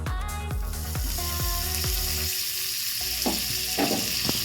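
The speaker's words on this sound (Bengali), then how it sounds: "এরপর আমরা ওই প্যানে আরও বাটার দেব" Butter sizzling in a frying pan while chicken burger buns are cooked: a loud, steady crackling fry with a few rhythmic clanks early on, then continuous sizzle with brief splashy bursts.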